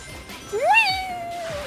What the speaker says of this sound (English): Oh my god, the cats are fighting